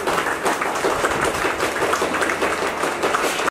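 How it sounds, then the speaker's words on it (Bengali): An audience at a West Bengal party meeting in Diamond Harbour breaks into sustained applause, a dense, loud wash of clapping that runs steadily before cutting off abruptly. "একটু করতালি দেবেন।"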